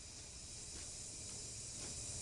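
A steam locomotive's drain cocks vent steam as a steady, loud hiss that carries on unbroken throughout, with faint pulses within it.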